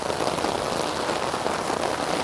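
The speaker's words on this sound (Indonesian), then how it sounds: "Hujan deras, mau keluar malah hujanan ini." Heavy rain pours down in a dense, steady hiss of countless drops striking surfaces, continuous and even throughout with no talking.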